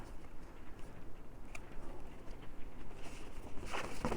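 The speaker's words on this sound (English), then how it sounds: "I don't know if it's raining really hard or if that's sleet." Heavy rain or sleet pattering steadily outside, a dense continuous hiss of drops with a brief louder burst near the end, heard from indoors with no talk over it.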